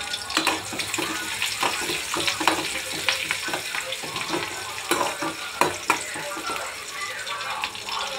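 Finely chopped onions hiss and crackle in a pan while being stirred, with scraping and clatter of a utensil up close; sound is continuous and fairly busy, with no clear talking.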